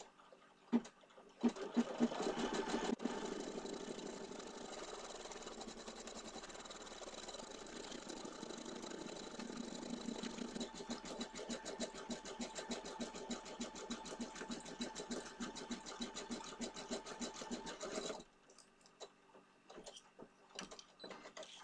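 An embroidery sewing machine stitches a design in purple thread, running as a fast, steady mechanical clatter for about sixteen seconds before stopping, followed by a few quieter clicks.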